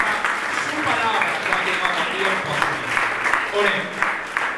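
A church congregation breaks into sustained applause at an evening worship service, a dense, steady clapping that carries on for several seconds without pause, with voices faintly mixed in.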